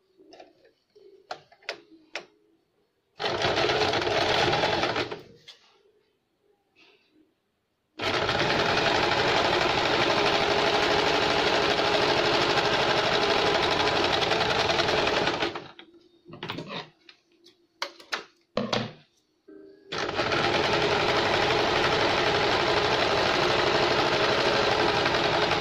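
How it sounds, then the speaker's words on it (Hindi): A sewing machine stitches the bottom hem of a baby's halter neck frock in two long, loud, steady runs of rapid mechanical rattling, with quieter clicks and handling noises between them. "बॉटम को हम यहाँ पे सिलाई देंगे और मोल के यहाँ से हम नीचे की ओर सिलाई देंगे।"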